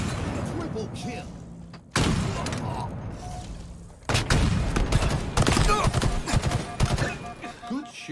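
Bursts of gunfire in a Halo video game, in a multiplayer match with kill announcements, loud rapid volleys cut into separate segments, mixed with impacts and an announcer's voice.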